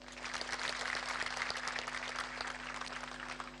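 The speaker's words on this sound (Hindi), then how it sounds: "उनके लिए एक बार ताली बजाओ।" Sustained audience applause from a seated crowd at a yoga and health gathering in Patalganga, Maharashtra, a dense even wash of many hands clapping throughout, steady and moderately distant, with no talk over it.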